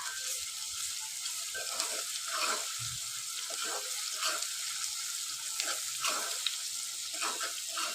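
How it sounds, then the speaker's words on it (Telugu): Ginger paste with turmeric fries in a pan, a soft steady sizzle with light stirring and scraping, close by and moderately loud, no voices. "కొంచెం ఫ్రై అవ్వనివ్వాలి అల్లం పేస్ట్."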